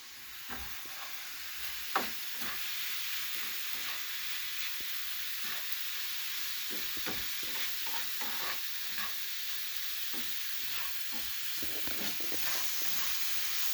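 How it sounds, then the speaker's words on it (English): Rice gets stirred into onion and garlic frying in oil, making a steady close sizzle with frequent scraping and tapping of a spoon against the pan. "we stir this rice in and cook it for another 2 minutes"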